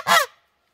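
A single loud goose honk, close and brief, from a farm flock kept with ducks and chickens, ending in a short silence.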